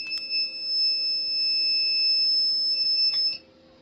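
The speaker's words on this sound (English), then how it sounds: "Oh god, that beeping." Error alarm on a self-built Prusa 3D printer, a steady high-pitched electronic beep tone held for about three seconds before cutting off, alone in a quiet room.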